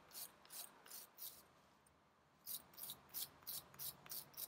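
A bristle brush scrubs corrosion off a corroded air hose quick coupler near its O-ring, making short rhythmic rasping strokes in bursts with a brief pause midway, close and fairly quiet.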